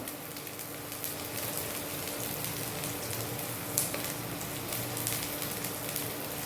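Sliced onion fries in hot oil in a pan, giving a steady, close, hissing sizzle with fine crackles and occasional louder pops, and no talking.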